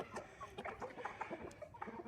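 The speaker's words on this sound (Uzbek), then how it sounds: "Mana xo'roz yangi." A Korean Shamo rooster clucks in a close series of short, throaty pulses over about two seconds, quiet and steady, with no voices.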